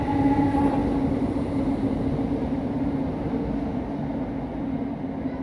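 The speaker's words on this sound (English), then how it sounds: "That's another train that I've seen off my bucket list." A train rumbles steadily past at Preston station, a loud continuous rolling roar with a faint tonal hum that slowly eases off.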